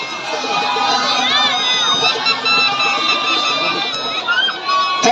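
Dense, steady roar of a football match crowd at the Mahmoudiya tournament final, with whistles and shouts rising over the continuous noise and a voice calling out above it.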